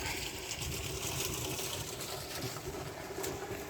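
Water gushing steadily from a 5 HP Mecwin solar submersible pump at a borewell, a continuous broad splashing rush close by with no pauses.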